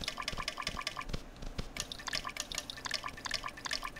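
Water drips steadily in the Cube World video game, a dense run of small, close, fairly quiet droplet plinks over a faint watery background, with no voices.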